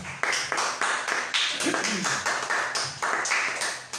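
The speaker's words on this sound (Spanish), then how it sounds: "Denle una ofrenda de aplauso al Señor." A church congregation claps together in a steady, rhythmic burst of applause during a service, sharp repeated claps close and clear with little talk.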